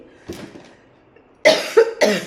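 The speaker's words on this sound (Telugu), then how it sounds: "నాకు ఇంకా కాఫ్ తగ్గలేదు" Three sharp, loud coughs in quick succession close to the listener, after a quiet stretch with a faint earlier murmur.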